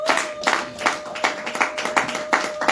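A church congregation claps in quick rhythmic bursts, loud and close, keeping a steady beat with a faint sustained tone underneath.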